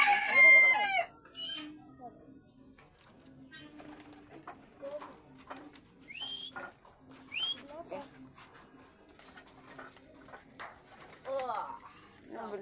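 Released pigeons call outdoors with scattered coos and short cries between quiet gaps and soft flutters, faint and intermittent with other fowl sounds around.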